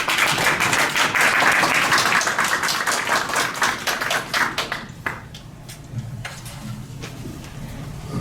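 Audience applause welcoming a speaker at a lecture on coups in Thailand, loud and dense at first, then thinning into scattered claps and fading over several seconds.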